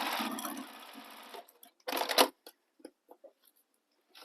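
Sewing machine stitching the gusset seam of a sling bag, a close run of fast stitching that stops, a second short burst, then scattered small clicks and fabric handling.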